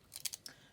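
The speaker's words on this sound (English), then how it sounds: "Just cut the end off there." Scissors snipping the end off paper while crafting a junk journal: a few quick, crisp snips close by, with no talking.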